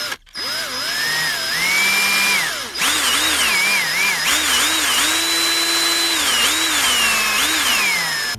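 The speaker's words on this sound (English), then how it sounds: "So you can take your screwdriver and just start unscrewing these." A screwdriver, likely powered, removing the Phillips screws from a JVC MX-J900 speaker, with a loud whirring motor whine rising and falling in pitch through repeated runs, nearby and continuous with brief pauses.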